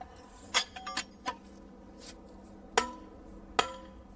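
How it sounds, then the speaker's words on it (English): A hammer taps steel plug and feathers set in drilled holes to split stone, sharp metallic clinks struck in a loose irregular series of five or six blows, close and clear against a quiet background. "it's called delving, and using plug and feathers"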